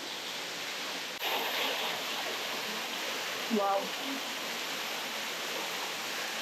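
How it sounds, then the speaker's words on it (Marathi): Water falling from above into a cave-style temple at a waterfall, a steady broadband rush heard from nearby, with a brief voice exclaiming partway through. "पाणी पडतंय वरून."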